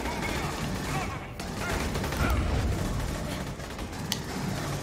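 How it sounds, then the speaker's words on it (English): Flamethrower secondary fire in the video game Aliens: Colonial Marines, a dense, continuous roaring rush of noise with crackling bursts, loud and steady throughout with brief sharper cracks. "that's a secondary fire, a flamethrower"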